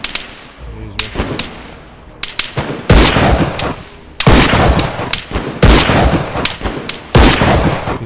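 Gunfire in the video game DayZ Standalone, with loud, close sharp shots and heavy bursts that ring out into sustained rumbling, separated by brief quieter gaps.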